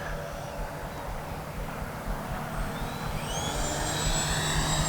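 FMS Futura 80mm radio-controlled jet plane making a low, slow pass, its ducted-fan whine a steady, loud rushing roar with a thin rising tone, swelling slightly as it nears.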